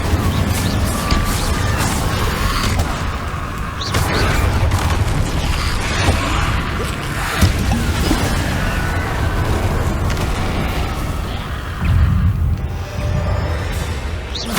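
Spells cast in the video game Hogwarts Legacy, including Confringo fire explosions: a continuous loud barrage of booms, cracks and impact hits, layered and chaotic throughout the battle.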